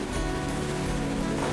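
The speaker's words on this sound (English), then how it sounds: "We're in the middle of a lot of rain" Heavy rain on a Gunboat 55 sailing catamaran reaching across the channel at speed, a dense steady hiss of drops on deck and water with a low rumble of wind and hull motion underneath.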